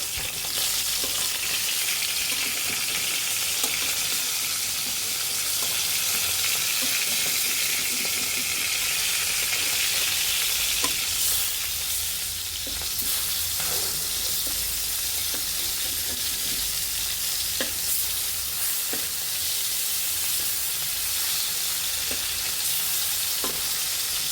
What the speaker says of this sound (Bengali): সাদা তেল এখন আমরা মাছগুলো ভেজে নেব